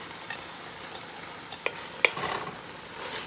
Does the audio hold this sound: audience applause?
no